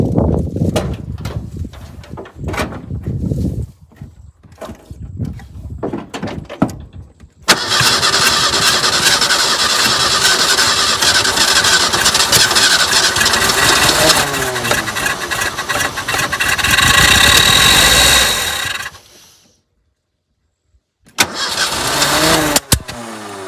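Square body Ford Ranger with a carbureted engine cranking repeatedly, then catching and running loudly for about ten seconds before cutting out, followed by another brief cranking burst, close up with no talk.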